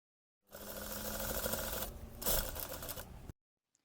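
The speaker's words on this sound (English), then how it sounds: "Now we have to sew the sides and the sleeve." A sewing machine runs for about three seconds, stitching the sides and sleeves of a dress made from baby bodysuits, a steady close mechanical whir with a brief pause and shift in pitch, no talking.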